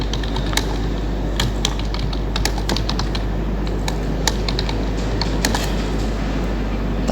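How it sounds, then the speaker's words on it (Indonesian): Steady keyboard typing on a computer during an online attendance form setup, a continuous run of quick light key clicks over a constant low hum, close and fairly loud, with no voices. "Kemudian ketikkan nama formnya."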